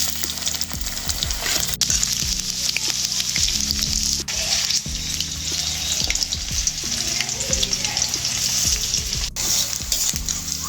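Batter-coated spiced cauliflower fries in hot oil for a honey garlic cauliflower dish, a loud continuous sizzle and bubbling close up, with occasional sharp taps and clicks from stirring.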